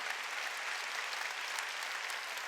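A church congregation at a Wednesday worship service claps steadily together, a dense, even wash of applause that holds at a constant level from start to finish.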